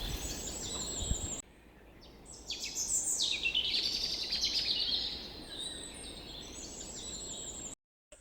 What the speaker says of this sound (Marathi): पक्ष्यांना किल बिलाट तुम्हाला ऐकायला येतच असेल.